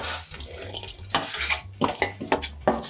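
Roasted tomatoes being scraped from a pan, with repeated close rasping and scraping strokes of a utensil against metal and a low rumble underneath, no talk.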